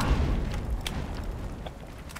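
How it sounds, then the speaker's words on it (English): A grenade blast in the video game Borderlands: one short, loud boom cuts through a steady, busy mix of in-game noise. "I figured out how to throw grenades as well."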